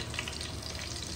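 Chapli kabab frying in hot oil in a wok, a steady close sizzle and crackle that holds evenly through the short stretch with no voices.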